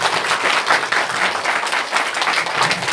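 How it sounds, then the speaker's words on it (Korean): Church congregation applauding new members during a Korean Sunday service, a lively, moderately loud wash of many hands clapping that swells and dips slightly throughout, without speech on top. "네, 박수 한번 주실까요?"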